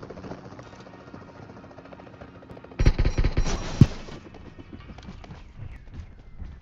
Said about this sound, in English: Where are we getting shot at from?